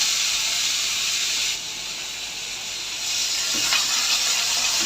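Garlic and ginger paste hits hot oil already tempered with nigella seeds, giving a loud, steady sizzling hiss that dips slightly midway and swells again, with no voices.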